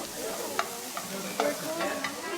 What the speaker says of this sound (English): You saute your chicken first. This needs to be sizzling